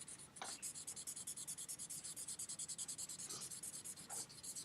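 A graphite pencil scratches across paper while shading a drawing of an Olympic curling stone, in quick, regular back-and-forth strokes heard up close and steady, with no talking.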